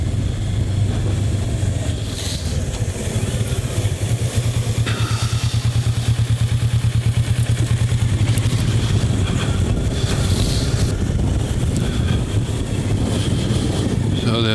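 A Kawasaki Versys 650 is ridden hard, its engine holding a loud, steady drone under heavy wind rush and buffeting at the microphone, with faint clatter and no clear talk.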